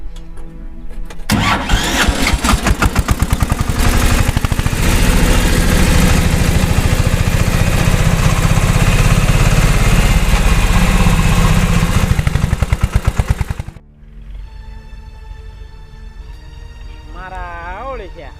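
A tractor engine starts and runs loud and close with a steady, throbbing chug for over ten seconds before cutting off, followed by quieter sounds with voices in the background.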